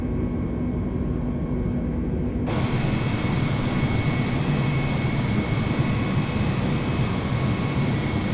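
An airliner takes off from JFK in Flight Simulator 2020, its jet engines holding a loud, steady roar that suddenly broadens into a brighter, fuller rush partway through as the aircraft climbs away.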